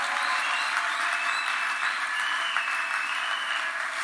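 A church congregation applauding, dense continuous clapping from many hands filling the space evenly for several seconds, loud and sustained without speech over it.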